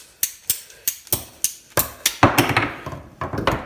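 Cutters snipping through steel tape measure for a 2 meter Yagi antenna, a run of sharp, evenly spaced metallic clicks and snaps up close, followed by a denser burst of crunching cuts.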